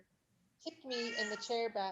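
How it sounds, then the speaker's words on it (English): A pet cat lets out a loud, drawn-out meow up close, with a couple of rising and falling cries following a brief silence, while a person speaks over it. "That's my cat."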